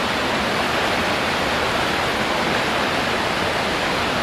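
Water rushing at 13,000 gallons per minute through a ProFlex flow test rig, a dense, steady roar filling the whole clip, loud and unbroken with no voices.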